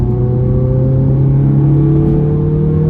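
A Honda Civic FN2 engine held in the wrong gear drones loudly and steadily from inside the car, a strained, even hum throughout with no voices.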